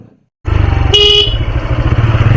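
A vehicle horn sounds once, loud and close, on a narrow village lane, cutting briefly through the steady nearby rumble of a motorcycle engine that runs throughout.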